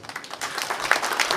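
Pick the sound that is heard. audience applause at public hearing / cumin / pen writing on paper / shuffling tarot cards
audience applause at public hearing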